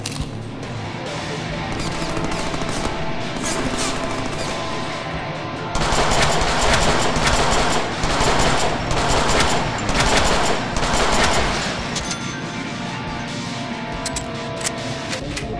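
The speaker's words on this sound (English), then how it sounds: "I am shooting you!" Continuous automatic gunfire from shooting in the Deadpool video game, loud and close, swelling into a denser rattling barrage midway before easing back to a steady background of shots.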